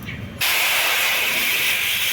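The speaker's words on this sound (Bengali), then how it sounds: "কড়াইতে বসিয়ে নিয়েছি এবারে কড়াইয়ের মধ্যে দিয়ে দেব জল" Water hits a hot wok on a clay stove, and after a short quiet crackle a sudden, loud steaming hiss bursts up and holds steady close by.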